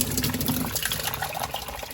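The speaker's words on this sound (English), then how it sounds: "So we're seeing some water coming out." Water gushes steadily from the tap of a Xiaomi 1200G Pro water purifier, a close, continuous splashing flow that fills the room with a dense hiss and no talking.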